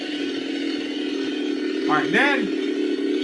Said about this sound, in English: Then once you turn it on, the motor is revving.